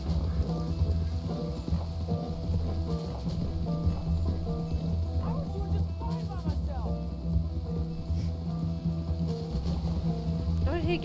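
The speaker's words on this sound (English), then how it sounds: "Why does my horse feel so slow compared to his little shit pony?" Galloping horse hooves from the Red Dead Redemption 2 video game, a steady rapid clip-clop running under continuous background game sound and music, with people talking over it at times.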